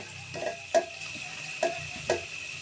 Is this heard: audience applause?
no